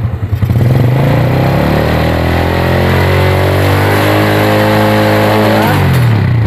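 Yamaha Vega R/Jupiter motorcycle engine running in a workshop after its charging system was converted from half wave to full wave, held at a steady, loud idle and then revved up smoothly toward the end.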